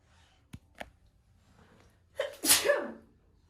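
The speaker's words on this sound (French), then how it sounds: "Oui, j'ai envie d'éternuer." A single person sneezes loudly in a small hotel room, with a sharp burst following a couple of faint sniffs or breaths.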